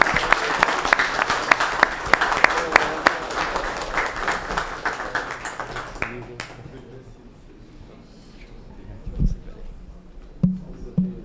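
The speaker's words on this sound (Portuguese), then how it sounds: "pedir a todos que dessem uma salva de palmas" A council audience gives a round of applause, sustained clapping that is loud for about six seconds and then stops abruptly, leaving quiet room sound with a few scattered knocks.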